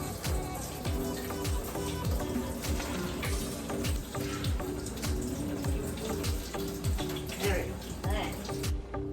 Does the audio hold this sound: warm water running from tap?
yes